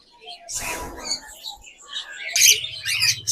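A pair of lutino cockatiels gives short, bright chirps and tweets in bursts, fairly close, with a denser flurry of calls in the second half.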